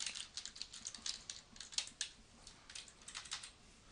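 Rapid typing on a computer keyboard while entering HTML formatting text, close and crisp, with irregular clusters of key clicks and brief pauses throughout and no voices.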